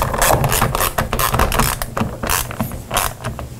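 Metal nut with a lock washer being tightened onto an arcade control panel hinge, giving repeated close creaking, ratcheting clicks in an irregular rhythm with no talking.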